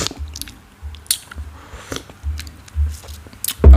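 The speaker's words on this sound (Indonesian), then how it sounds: "kita seruput kopinya, masih panas banget" Hot coffee is slurped from a cup in short wet sips with small gaps between them, close and intimate, with no talk.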